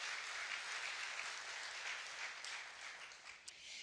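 Steady applause from a crowd at the Belmont Stakes post position draw in Saratoga, a dense wash of clapping that holds throughout and thins slightly toward the end.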